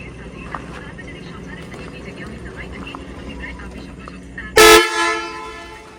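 At a plant during blasting work, one short, loud vehicle horn blast sounds near the end, after a stretch of background noise and distant voices.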